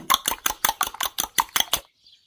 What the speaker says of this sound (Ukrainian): Яйця розколочую в вилку.